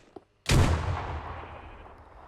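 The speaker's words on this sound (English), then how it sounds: "Behold as I throw the frag grenade." A frag grenade explodes in a blocky video game, preceded by a faint click, then a sudden loud booming burst that decays over about two seconds into a fading rumble.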